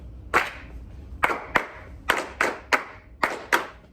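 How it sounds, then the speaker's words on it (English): Students in a music class clap out a reading rhythm that includes triplet figures: eight sharp, close hand claps in an uneven, practiced pattern with short pauses between groups, and no voices. "Everybody clapping, no counting."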